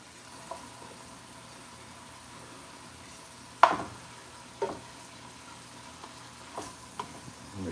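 Shrimp sautéing in garlic butter in a pan, a low steady sizzle broken by a few sharp scrapes and clacks as a spoon flips them one by one, close with no talk.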